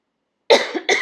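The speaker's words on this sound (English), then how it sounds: "Sorry for the cough" A single close, abrupt cough with two harsh bursts after a moment of silence.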